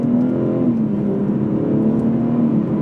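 A BMW 440i M Sport accelerates hard on a road, its engine heard from inside as a loud steady rising drone with a smooth continuous roar.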